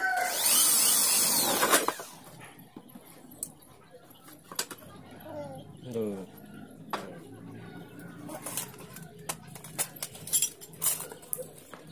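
A short burst of loud drilling into an aluminium door frame with a 3.5 mm bit at the start, then quieter handling noises, clicks and light tapping.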